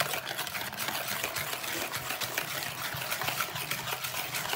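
A batter mixture for a Nutella roll is stirred briskly in a bowl, giving a continuous wet, sloshing scrape with a quick repeating rhythm at moderate, close range.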